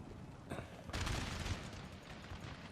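Cannon fire in the Napoleon: Total War strategy game, a dull booming volley with a sharp onset, set within continuous rumbling battle noise and no speech.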